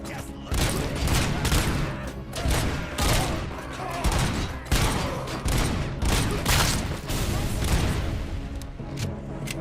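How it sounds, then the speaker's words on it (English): Pistol fire in the video game RoboCop Rogue City, a dense barrage of loud, rapid gunshots and booming impacts over game music, continuing for nearly ten seconds. "Kind of satisfying, this pistol"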